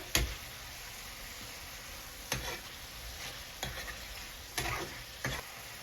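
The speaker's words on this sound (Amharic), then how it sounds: "ከዛ ቲማቲም እንጨምራለን። ቲማቲሙንም እንደዛ ትንሽ ገልበጥ ካደረግን በኋላ" Tomatoes stirred and frying in a pan for awazé tibs, a broad steady sizzle broken by several sharp scraping clicks of a spoon spaced a second or two apart, with no voices.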